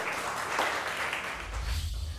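Students clapping together in a classroom during a science lesson, a steady wash of applause lasting about two seconds with some low rumble near the end.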